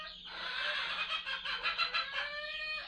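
Quail at a farm with eggs kept for hatching give a steady stream of high, chirping calls that overlap throughout and stay fairly close.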